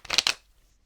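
A brief, soft riffle of tarot cards being shuffled, two quick papery bursts close by, then quiet.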